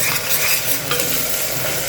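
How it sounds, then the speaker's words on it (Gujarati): Spice masala with turmeric, red chili and coriander-cumin powder sautéing with tomatoes in a pan for green pigeon pea dhokli, a steady close sizzle with stirring throughout, no voices. "હવે આ મસાલાને આપણે બરાબર સાંતળવા દઈશું"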